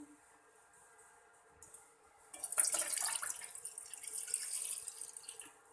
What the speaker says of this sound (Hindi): और इसमें अब मैं ऐड करूँगी 1 गिलास पानी